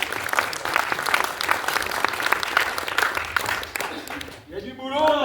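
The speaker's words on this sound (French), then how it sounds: "On vous applaudit bien fort. Bravo." Dense, continuous applause from a theater audience after an amateur troupe's stage show, loud and sustained, with a voice speaking briefly as the clapping tapers off at the end.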